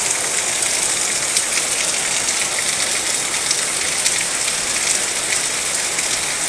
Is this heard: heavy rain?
yes